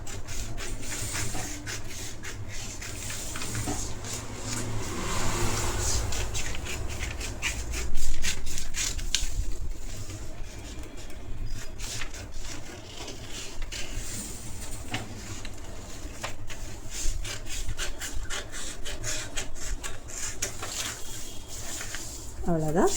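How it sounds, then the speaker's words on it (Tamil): Scissors cut through blouse fabric for the back panel, giving soft repeated snipping and rubbing scrapes close by while someone talks over the work. "பேக் பார்ட்டு கட் பண்ணிக்கோங்க ஃபர்ஸ்ட்டு."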